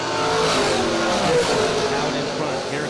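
Drag racing cars, a Nova and a dragster, launch down the strip with a loud, sustained engine roar and revving, while an announcer talks over them.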